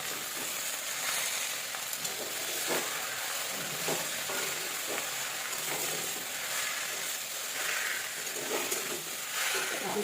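Jute leaves frying and sizzling in a pan for a lentil dish, a steady hiss with occasional stirring scrapes and faint voices in the background.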